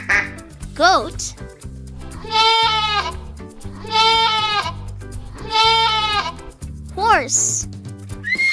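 A goat bleats three times in loud, quavering cries about a second long each, spaced evenly, over soft background music with whistle-like effects at the start and finish.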